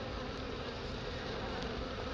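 A honey bee swarm hums with a dense, continuous buzzing around a hive box during an October swarm removal in College Park, steady and loud with no talking.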